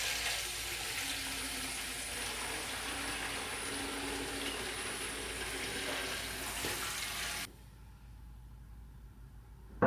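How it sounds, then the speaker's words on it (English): Fuel pours steadily into the tank of a Honda three-wheeler with a continuous hissing, splashing gush for about seven seconds, then stops abruptly, leaving quiet. "Let's get some fuel in."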